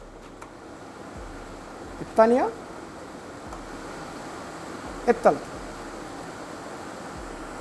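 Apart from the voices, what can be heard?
electric air cooler running on its third speed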